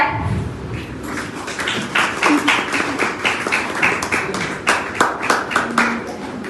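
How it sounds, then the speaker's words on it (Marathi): A group claps together in a steady, fairly quick rhythm that swells in the middle, close and lively, with a faint murmur of voices underneath. "टाळ्या."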